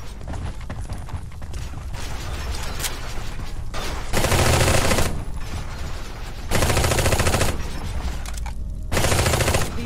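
Gunfire erupts around a base under enemy attack in the video game Eximius: Seize the Frontline, sustained rapid automatic bursts with louder surges of fusillade between quieter stretches, continuous for the whole stretch.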